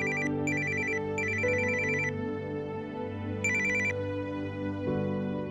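A phone ringtone repeats in short bursts of bright electronic tones, two groups close together then another after a pause, over a low steady background hum, fairly quiet and with no speech.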